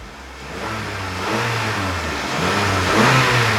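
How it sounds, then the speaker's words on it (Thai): A Honda Accord 2.4 car engine revs up and down several times, a steady mid-pitched roar rising and falling close by, with no talking. "เดี๋ยวลองฟังเสียงเครื่องสักหน่อยดีกว่านะครับ"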